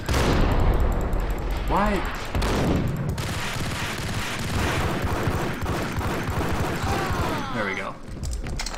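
Automatic weapon fire in the video game Max Payne, sustained bursts of loud gunshots running through most of the stretch, with someone speaking briefly over the shooting.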